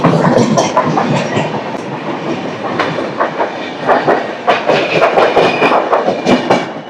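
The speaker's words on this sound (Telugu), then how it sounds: "పక్కనే పక్కన ఒక ట్రైన్ అయితే వెళ్తుంది ట్రైన్ ఇది" An express train running from Bengaluru to Bhubaneswar rolls past close alongside, a loud steady rumble with rhythmic clickety-clack of wheels over rail joints throughout.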